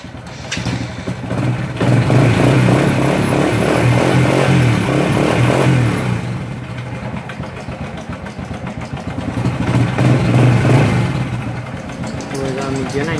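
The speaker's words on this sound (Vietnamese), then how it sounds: "khi anh em đã lên sạc ok rồi thì anh em nổ máy test điện nạp vào bình" A Honda Wave A motorcycle engine idles steadily at close range, a low continuous rumble that swells and eases slightly, with someone talking over it at times.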